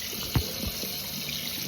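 Water from a tap pours steadily onto an Honor X9c smartphone, a continuous close hiss with one brief thud early on.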